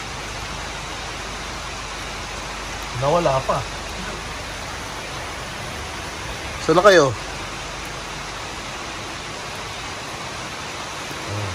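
Steady rain falls across the whole scene around a pigeon loft, a constant broadband hiss, while people talk briefly twice over it.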